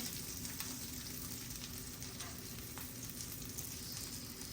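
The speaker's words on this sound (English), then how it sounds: "હવે આપણી હિંગ એડ થઈ ગઈ છે." Asafoetida sizzles in hot oil for lemon rice, a continuous, even crackling hiss heard alone at close range.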